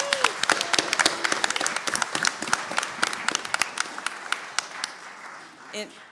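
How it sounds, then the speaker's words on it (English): Audience at an arts and culture candidate forum giving a round of applause, crisp individual claps from a modest crowd that thin out and fade toward the end. "let's give ourselves one big round of applause"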